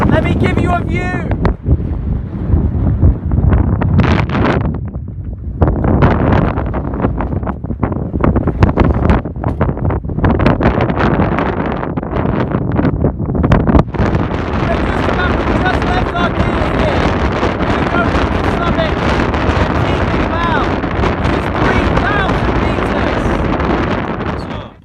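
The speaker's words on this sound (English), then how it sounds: "It's really windy." Strong wind roars and buffets the microphone at a 2,700-metre pass on the GR10 in the mountains, arriving in heavy gusts at first and then settling into a sustained loud rush.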